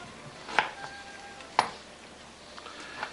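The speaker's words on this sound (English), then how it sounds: "And cut up a few slices of ginger." A knife cuts slices of ginger on a cutting board, giving two sharp, distinct chops and then a few fainter taps, close and clear over a quiet background.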